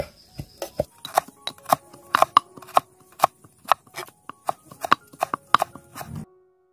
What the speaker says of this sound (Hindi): प्याज को हम बहुत पतले पतले करके काटेंगे।